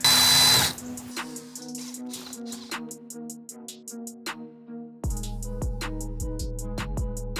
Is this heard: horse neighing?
no